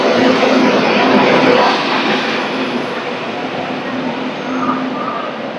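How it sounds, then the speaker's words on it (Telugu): A train pulls in alongside a platform at Vijayawada Junction, a loud broadband rumble and rush close by that slowly eases as it slows. "పక్కనే ఒక ట్రైన్ అయితే వచ్చింది"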